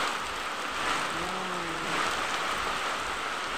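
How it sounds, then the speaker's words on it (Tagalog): Steady heavy rain pours down in a dense, even hiss, with a faint low tone briefly rising under it. "Ang lakas-lakas ng ulan guys."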